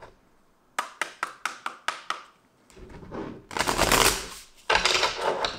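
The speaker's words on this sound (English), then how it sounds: "So let's start shuffling, Sagittarius." A run of sharp tarot card riffles and taps, then louder bursts of tarot cards being shuffled, close up, with no talking.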